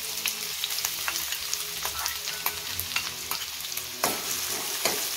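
Onion frying in hot oil in a kadhai, a dense continuous sizzle with crackling pops and the odd scrape of a spoon stirring, close and steady, with no talking.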